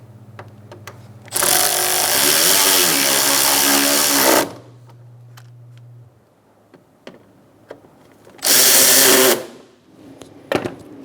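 A power tool tightens bolts on the front bumper cover of a 2012-2018 Ford Focus in two loud, whirring bursts, one about three seconds long and a shorter one later, with clicks and handling knocks between them.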